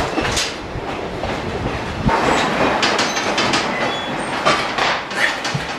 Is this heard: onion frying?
no